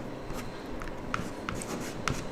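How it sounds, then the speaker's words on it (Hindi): Hindi letters being written on a board during a grammar lesson, with soft scratchy strokes and a few sharper taps, steady and close with no talk. "4 वर्ण आपके सामने मैं लिख रहा हूँ"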